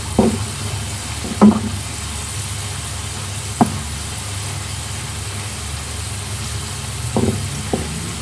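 Homemade chicken pieces fry in oil with a steady, fairly quiet sizzle, broken by a few sharp clinks and knocks of utensils against the pan; no one speaks.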